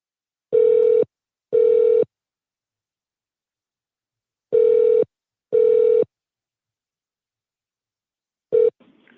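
Telephone ringback on a call to a direct office number in the Cayman Islands: four identical steady electronic tones in two pairs with silent gaps, then a fifth tone cut short as the line connects, with no talking.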